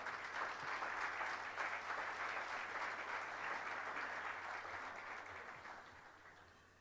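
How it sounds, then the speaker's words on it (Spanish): An audience gives a strong round of applause for a minister at a breakfast talk event, dense steady clapping that slowly fades toward the end. "un fuerte aplauso"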